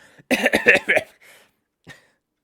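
A man clears his throat loudly in a series of rough, choppy bursts, followed by a softer trailing rasp and one last brief hack.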